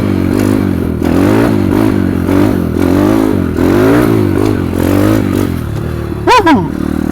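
A 140 CRZ motorcycle engine drones loudly nearby in a steady buzzing rev that rises and falls during a wheelie, ending with a sharp high rising rev followed by a brief clatter.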